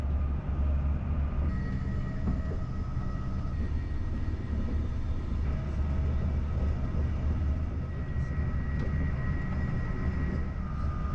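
A constant, loud low rumble of an I-11 stock EuroCity train travelling at 160 km/h between Brussels and Antwerp, heard from inside, with a steady hum and faint high whine throughout.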